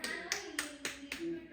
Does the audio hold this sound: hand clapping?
yes